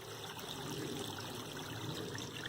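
A waterfall and flowing stream on a hiking trail give a steady, broadband rush of water that stays even and continuous throughout, fairly close with no voices.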